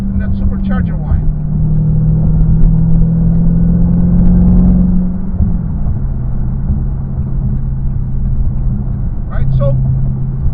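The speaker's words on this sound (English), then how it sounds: "Like that exhaust sound and that supercharger whine." A Hellcat on the road gives off a deep exhaust drone with a steady engine tone that shifts pitch as it pulls and then eases off, loud and close, with faint bits of other sound near the start and end.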